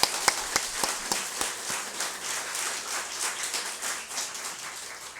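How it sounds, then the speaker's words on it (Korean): Applause rises at a church founding service, a crowd clapping in a dense, steady patter after a few sharp early claps, moderately quiet and continuing alone for several seconds. "우리 하나님께 영광의 박수 올릴까요?"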